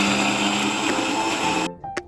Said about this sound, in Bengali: এখানে এই যে কড়াইশুটিটা একটু মিক্সারে ঘুরিয়ে নিচ্ছি এখন